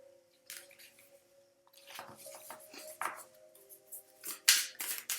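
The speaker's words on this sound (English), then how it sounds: "Too many cards fell out" Tarot cards slipping and spilling out during a shuffle: soft papery flicks, slaps and scattered taps in irregular bursts, close and fairly quiet, growing busier toward the end, with no talking.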